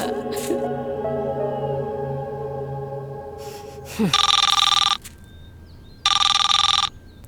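A telephone rings twice in loud electronic bursts, following a squeaky rubber-toy squeal and a few soft tones before it.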